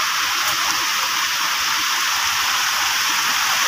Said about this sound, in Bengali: কি আকাশের অবস্থা দেখো, খালি বৃষ্টি পড়ছে